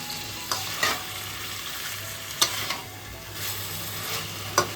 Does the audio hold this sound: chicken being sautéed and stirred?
yes